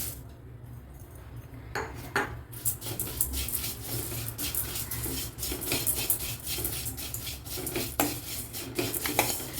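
Flattened rice (aval) being stirred and dry-roasted in a pan, with a steady scrape and clatter of a spoon against the metal running throughout, close up, and no voices.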